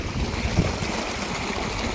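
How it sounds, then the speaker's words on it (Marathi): Water flows steadily as it is released into a divided field channel behind an earthen bund, a continuous broadband rush that stays even and close throughout, with no voices. "पाणी सोडण्याचं काम चालू आहे"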